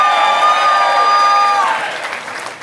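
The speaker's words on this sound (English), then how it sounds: "I want you to applaud them all." An audience at an Italian heritage reception claps steadily for a couple of seconds, the applause fading toward the end, while a sustained musical tone rings underneath.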